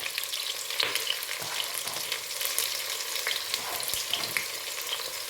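Onions and garlic frying in a pan give a loud, steady, close sizzle with crackling pops and occasional stirring scrapes throughout, with no voices.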